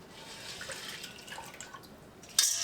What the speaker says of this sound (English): And I swish them around and then pick them up.